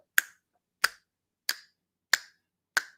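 Five crisp finger snaps at an even, unhurried pace, each sharp and close against total silence.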